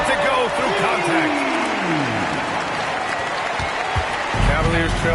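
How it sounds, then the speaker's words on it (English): A basketball arena crowd at a Cavaliers game roars with cheers and applause in a steady, dense wash, and a commentator's voice rises briefly over the noise. "Listen to the crowd here."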